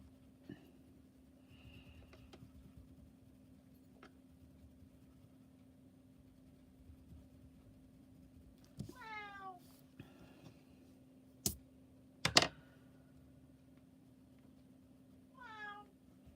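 Several short cat meows come late in a quiet stretch over a constant hum, broken by a couple of sharp knocks or clicks, with nothing spoken.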